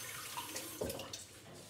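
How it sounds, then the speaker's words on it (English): A kitchen tap runs briefly as hands are rinsed under it, a soft close splash and trickle of water lasting under two seconds. "I'll give my hands a quick rinse"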